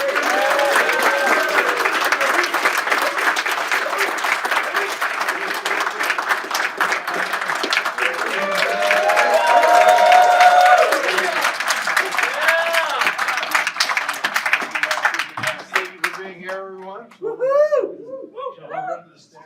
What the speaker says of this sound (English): a round of applause for the living legend himself